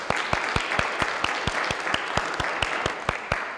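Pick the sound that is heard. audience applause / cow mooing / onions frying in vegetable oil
audience applause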